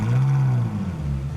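Ferrari 458 Italia V8 with triple exhaust fires up, a loud, brief starter catch swelling into a deep rising roar that settles into a throbbing idle.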